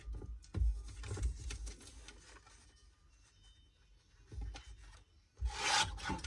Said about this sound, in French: Je vais découper ici, que ça soit droit.